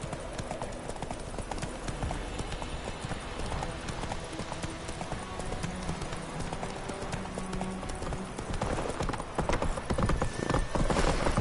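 Roach the horse gallops in The Witcher 3: Wild Hunt, a rapid continuous drumming of hooves throughout, with game sounds and occasional talk mixed underneath.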